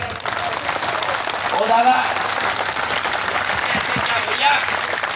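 Crowd at an outdoor political rally clapping, a steady loud wash of applause with a voice calling out over it.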